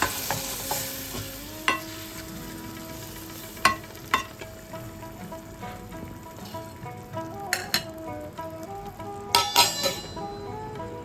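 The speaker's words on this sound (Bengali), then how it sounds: "এবার আমি জল ঢেলে দেব।" Hot pan of taro (maan kochu) curry sizzles steadily as water goes in, with scattered sharp clinks of a utensil against the pan over the hiss.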